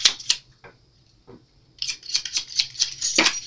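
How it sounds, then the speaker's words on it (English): Several tarot card decks being taken out and handled, with crisp papery shuffles, snaps and rustles, sparse at first, then a dense run of quick card flicks, close and without voices. "give me a moment to get all the cards out"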